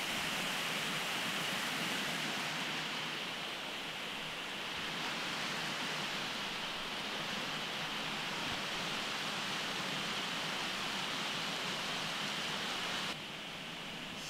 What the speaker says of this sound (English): There's the creek, makeshift railing.